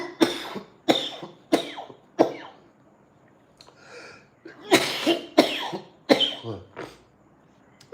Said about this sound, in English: I'm back into that coughing fit.